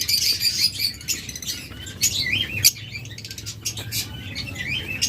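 Caged budgerigars and lovebirds for sale fill the space with dense, overlapping high chirps and tweets, loud and close, with fluttering bursts, chattering steadily throughout.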